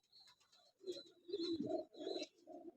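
Old Jhapre pigeons coo softly nearby in a few rounded, throaty phrases, with faint higher chirps in between and no human voices.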